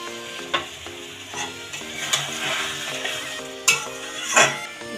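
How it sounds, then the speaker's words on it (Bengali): Eggs and tomatoes sautéing in a pan for a Bengali egg kalia masala, with a steady soft sizzle broken by a few sharp scraping stirs of a utensil against the pan. No one speaks. "ডিম দিয়েও 2-3 মিনিট কষিয়ে নেব।"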